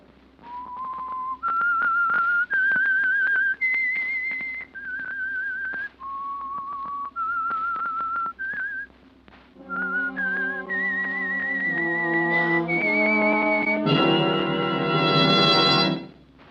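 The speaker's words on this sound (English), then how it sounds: "That whistle is your signal for the Signal Oil Program, The Whistler." A whistled theme signal opening the radio mystery show The Whistler, a lone melodic whistle of sustained notes stepping up and down, swelling into a fuller orchestral chord at the end.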